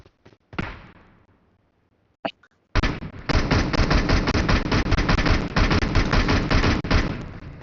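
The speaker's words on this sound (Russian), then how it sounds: "Стреляю и убегу." Sustained automatic gunfire from a shooter video game in assault mode, opening with a few scattered shots and short bursts, then a long, loud, unbroken stream of rapid fire that rattles on for several seconds.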